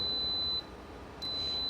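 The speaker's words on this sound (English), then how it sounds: "You can hear the little beeping noise on it." A steady high electronic beep tone from an Instant Pot pressure cooker signalling it is done, dropping out briefly in the middle before resuming, fairly quiet against a low background hum.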